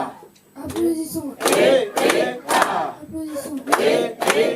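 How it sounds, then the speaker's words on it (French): An Easter 2025 church congregation bursts into rounds of clapping and loud collective shouting, in repeated surges of hands and voices close by. "Applaudissons."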